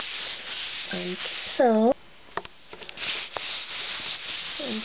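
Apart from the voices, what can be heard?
sandpaper rubbed in circles on a leg to remove hair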